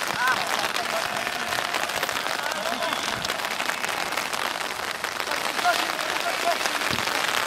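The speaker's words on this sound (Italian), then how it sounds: "Poi la pioggia che rompe" Rain falling during an outdoor amateur football match, a steady hiss of drops pattering on surfaces throughout, with faint scattered voices in the background.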